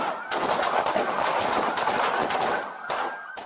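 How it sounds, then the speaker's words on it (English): Rapid multiple gunshots ring out during a police chase after a collision, a dense burst of cracking fire over harsh, noisy outdoor ambience, loud and sustained for several seconds. "We've got multiple shots fired."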